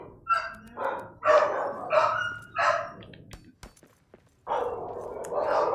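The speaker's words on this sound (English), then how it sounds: "The separation anxiety dog goes crazy when he hears the garage door" A dog with separation anxiety barks excitedly in several loud, close bursts, with whiny yips between them, then a short pause before more barking.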